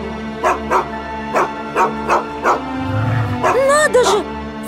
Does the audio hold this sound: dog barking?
yes